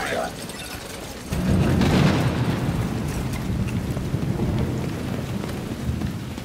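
A heavy thunderstorm in the video game The Division 2, a dense roar of rain and wind that swells loudly after a quieter start and rumbles on steadily, with a voice talking over it.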